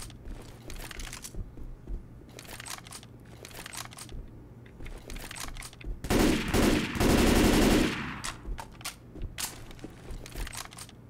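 Rapid gunfire from a gun in the Left 4 Dead 2 video game, firing in short bursts with one longer sustained volley in the middle, sharp and close over faint background game sounds.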